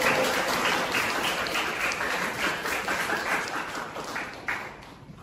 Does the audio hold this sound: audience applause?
yes